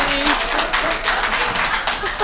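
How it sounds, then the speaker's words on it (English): An audience at a public meeting claps in a steady, dense patter of applause that runs the whole time, with a voice faintly audible beneath it. "No clapping. No clapping, please."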